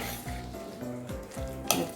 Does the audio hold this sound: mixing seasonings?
yes